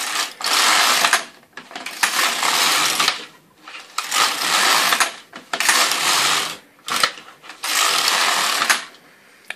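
A Knitmaster LK100 Zippy 90 knitting machine carriage sweeping back and forth across the needle bed, loud whirring passes of about two seconds each separated by short pauses, close up with no talking.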